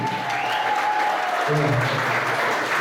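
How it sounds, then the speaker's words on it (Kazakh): Audience applause for Karlygash apai at a graduation ceremony, steady clapping throughout with a faint tonal hum and a few crowd voices under it. "осы Қарлығаш апайға бір шапалақ қойыңыздаршы кәдімгідей"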